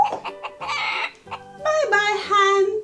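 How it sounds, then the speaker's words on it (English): A farm hen clucks several times in quick, close, clear bursts, with short pauses between calls. "Can you bok like a hen?"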